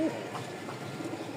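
Pigeons coo softly in a loft, low murmuring calls repeating over a quiet background hum.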